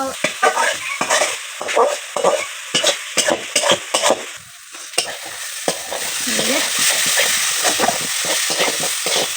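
Spice paste fries in a pot while it is stirred, with a rapid series of scraping stirs over a loud, steady sizzle that swells and turns more continuous in the second half.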